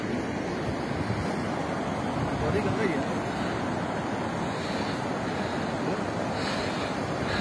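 A constant broadband roar comes from the Dhauli Ganga rushing through its Himalayan valley in Uttarakhand, heavy turbulent water heard close and unbroken throughout, with some wind buffeting the microphone.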